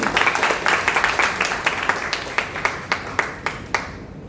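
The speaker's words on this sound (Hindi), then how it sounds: "जोरदार ताली बजाने की मदद करें" An audience claps after a poetry recital at a Railway Board poetry gathering, a loose, moderately loud run of hand claps with distinct individual strikes that thin out and stop near the end.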